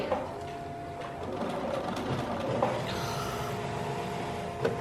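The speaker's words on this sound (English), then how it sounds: "she's sewing various book sizes to her background fabric" A sewing machine stitches strip sets of fabric in various block sizes onto background fabric for a quilt at a quilting retreat, a steady close mechanical whir running continuously with a few small clunks.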